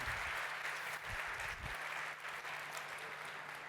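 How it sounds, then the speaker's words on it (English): Audience applause after a talk on giving back, a continuous, even wash of clapping from a crowd that carries on for several seconds without a break. "Thank you for the applause for him."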